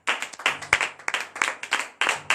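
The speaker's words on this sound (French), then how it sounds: "Donnez de vive acclamation à l'Éternel." A congregation at a Saturday morning prayer service in Benin claps in rhythmic bursts of acclamation, close and lively with short pauses between volleys and no talk.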